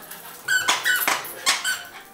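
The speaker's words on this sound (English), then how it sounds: "We got a squeaky toy." A dog plays with a squeaky toy, giving several sharp, high squeaks in quick bursts, close and fairly loud, with brief gaps between them.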